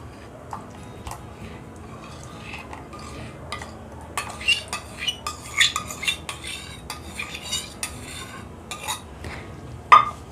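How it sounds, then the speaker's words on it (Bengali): A spoon stirs whipped yogurt into a hilsa fish curry in a pot, giving irregular metallic clinks and scrapes that start sparse and grow busier and louder midway, ending with one sharp clank. "চামচের সাহায্যে ভালো করে মিশিয়ে নিতে হবে।"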